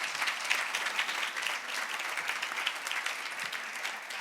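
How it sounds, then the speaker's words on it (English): An audience at a work-themed conference applauds panelists, a dense, even patter of many hands clapping throughout, moderately loud with no voices standing out. "Let's give them one more well-earned round of applause"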